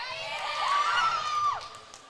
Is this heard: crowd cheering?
yes